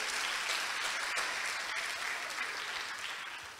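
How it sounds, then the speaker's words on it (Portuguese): A church congregation bursts into loud, dense applause that holds steady throughout, with no one speaking over it. "Quem crê assim, dá um aplauso ao Senhor."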